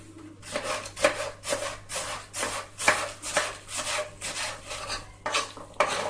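Repeated rasping, scraping strokes of a knife chopping çiriş (asphodel) root on a wooden board, steady and close, with no talking.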